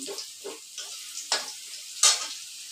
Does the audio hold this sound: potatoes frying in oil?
yes